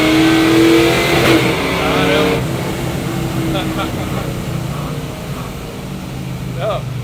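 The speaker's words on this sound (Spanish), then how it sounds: "Eu acelero, ele vai dar o lock-up ali" A Chevy pickup truck engine revs and accelerates in a closed area. The strongest rise is early, then it settles into a steady running drone while people talk over it.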